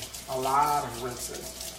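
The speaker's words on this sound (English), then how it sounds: "I do a lot of rinsing." Tap water runs briefly in a kitchen sink for rinsing, a soft splashing stream that rises and fades over a second or two at low volume.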